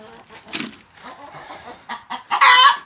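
Chickens cluck and squawk nearby, a busy flurry of short calls ending in a louder, sustained squawk.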